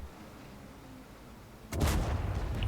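Tank shell fired in the game World of Tanks, one sudden loud cannon blast after a quiet engine hum, followed by a rumbling decay.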